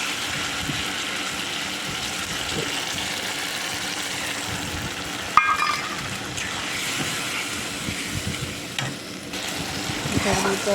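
A spice paste and tomatoes, for a jackfruit and prawn dish, are stir-fried in a pan with a loud, continuous sizzle and hiss, with a sharp scrape or clink partway through and stirring throughout.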